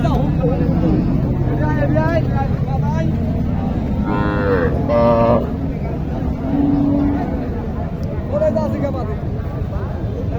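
A young desi cow moos at a crowded cattle market in Naogaon. The calls stand out briefly over loud, steady crowd chatter and nearby talking.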